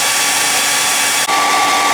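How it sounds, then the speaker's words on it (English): A hair dryer blows steadily and loudly up close, warming a stopped mechanical clock in a 1964 Dodge Polara in freezing weather, a constant whirring hiss with a steady whine and one brief dip partway through. "listen to this hairdryer run while I try to warm this clock up"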